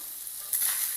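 Small fish frying in a pan with coriander leaves, a steady close sizzle that swells louder halfway through the brief moment, no talking.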